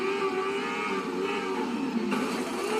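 Engines of race cars in the Racedriver GRID video game demolition derby drone steadily at high pitch, a continuous buzzing whine with slight pitch shifts over a few seconds.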